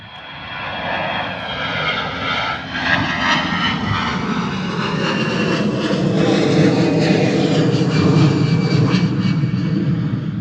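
An airplane departing Bristol Airport roars steadily as it climbs away, with loud broadband engine noise and whining tones that shift in pitch as it passes. It is sustained and fairly near, with no voices.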